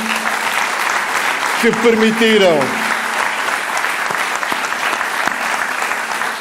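A crowd at a political rally, the Festa da Liberdade, keeps up loud, sustained applause throughout. A voice briefly rises over the clapping near the middle.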